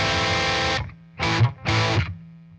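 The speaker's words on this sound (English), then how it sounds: "You're just going to hear an overdrive sound." Overdriven electric guitar through a Boss Katana amp on its brown amp type, dry with no effects: a sustained distorted chord rings out, then two shorter chopped bursts follow, loud and close with no voices.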